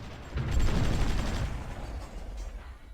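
Artillery bombardment in the strategy game Supreme Ruler Ultimate: a muffled boom swelling into a rumbling barrage of distant explosions that slowly fades, heard alone.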